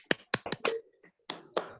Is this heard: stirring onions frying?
no